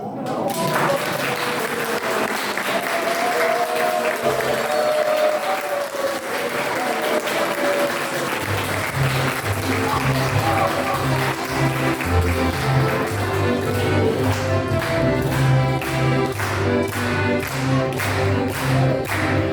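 An audience at a Christmas carol and tea gathering bursts into loud applause, a dense clatter of clapping that later blends with rhythmic clapping in time over music.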